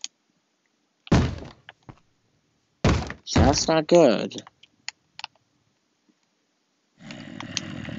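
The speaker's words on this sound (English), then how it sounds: "Wait, did it start breaking down my door?" A zombie thuds against a wooden door in Minecraft, with two heavy bangs a couple of seconds apart. A player speaks briefly in between, and a rustling game noise follows.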